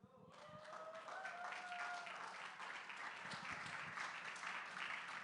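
An audience applauds after a speech at a Hawaiian cultural event, starting as a rising whistle and cheer, then settling into sustained, even clapping from a crowd heard at a moderate distance.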